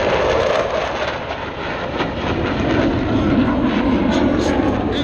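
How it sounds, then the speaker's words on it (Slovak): A Eurofighter twin-engine delta-wing fighter jet roars past during an air show in Slovakia, a loud, broad, steady jet rush that stays strong throughout. "Je to dvojmotorové viacúcelové stíhacie lietadlo 4. generácie s delta krídlom"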